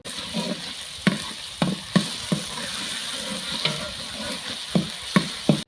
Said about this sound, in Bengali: পনে এক কাপ সরিষার তেল এক টেবিল চামচ পরিমাণ রসুন বাটা দিয়ে এক মিনিটের মতন ভেজে নিব